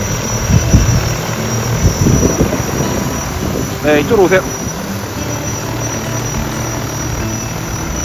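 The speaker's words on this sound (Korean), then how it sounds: "드론을 띄워서 바로 왼쪽 논으로 가서 러더를 돌려서 작업을 합니다." A 60-liter AF-FX agricultural spraying drone hums with a steady, loud rotor drone through the whole stretch while it flies over a rice paddy in Yeosu, and someone speaks briefly over it.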